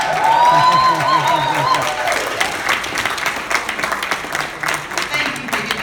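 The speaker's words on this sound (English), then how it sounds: "Thank you for giving them a round of applause" At a conference speech, a crowd claps loudly at first, then the applause thins into scattered claps as a voice talks over it.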